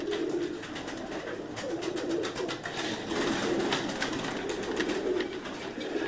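Black-mouthed breed pigeons coo in a dense, overlapping chorus, soft throaty calls rising and falling close by amid constant rustling and fluttering.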